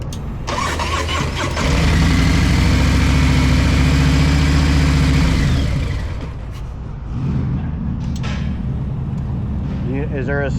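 Harley-Davidson Street Glide motorcycle, just back up after a tip-over, cranks and fires into a loud, close, lumpy idle for several seconds before the engine note drops away, with people talking nearby.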